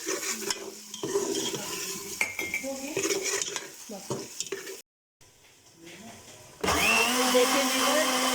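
Onion, garlic and ginger being stirred in a cooking pot for mutton chaap karahi, scraping and clinking under a steady sizzle, with a brief silent gap before the frying noise returns louder.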